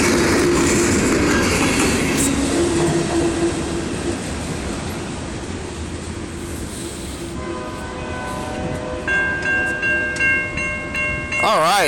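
Canadian National freight locomotive 5417 rolling through Effingham, Illinois: a loud, close rumble of wheels and cars that eases slightly midway, then a sustained air horn blast and rising engine noise near the end.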